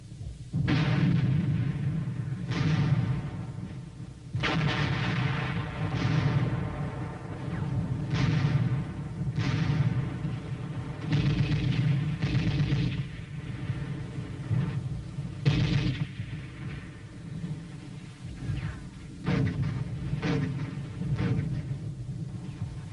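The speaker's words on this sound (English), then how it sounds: "Once again, artillery, tank, and mortar fire overtured the attack." A Korean War battle with artillery, tank and mortar fire: a steady low rumble broken by repeated heavy booms and blasts that sound distant to mid-range, with no clear voices.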